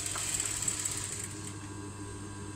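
A sewing machine stitches thread for dresses and blouses, giving a steady, fast mechanical whir that runs close and continuous for the whole short stretch.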